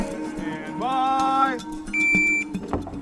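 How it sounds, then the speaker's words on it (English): A shooting competition start buzzer gives a short, steady electronic beep at a revolver stage, heard close among faint background noise and a brief voiced sound. "Buzzer sounds"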